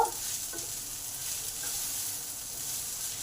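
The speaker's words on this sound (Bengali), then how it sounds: "এবার শাকটা পেঁয়াজ আর পোস্তর সাথে ভালোভাবে 1 মিনিট ধরে নেড়ে নেব।" Shushni greens being stir-fried with onion and poppy seeds, a soft, steady sizzle with faint stirring scrapes, no voices.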